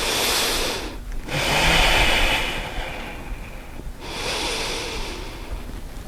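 Slow, deep yoga breaths, loud and close: a long hissing exhale, a pause, a long inhale, another pause, then a further breath.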